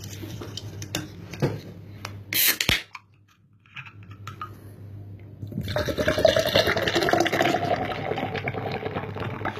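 Nitro Dogs Bollocks ESB beer poured from a can into a pint glass, a steady rushing, hissing pour rising over the second half after a brief sharp clink and a short pause, with some handling noise before.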